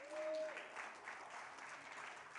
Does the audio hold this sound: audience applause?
yes